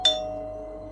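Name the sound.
house doorbell ringing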